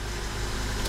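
Car engine idling just after start-up at a 2014 dealership lot, a steady low rumble held close and even for a moment with no talk.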